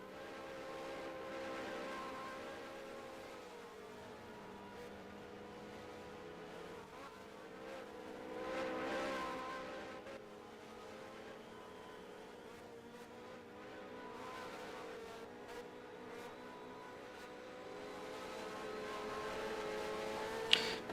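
A race car at Utah Motorsports Campus during a GTI race drones on the track with a sustained engine tone that swells and fades as it passes, heard at moderate distance throughout.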